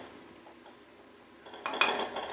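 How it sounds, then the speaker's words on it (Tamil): Soft background, then a spoon stirring rice scrapes and clinks against a metal cooking pot, growing louder toward the end. "அரிசியை சேர்த்துட்டு ஒரு வாட்டி மிக்ஸ் பண்ணி விட்டுலாம்"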